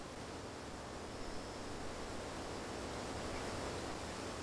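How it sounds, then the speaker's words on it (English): A waterfall in the video game Guild Wars Nightfall, a faint steady hiss of rushing water running evenly throughout with no voices. "Oh wow, and this is a pretty cool waterfall here."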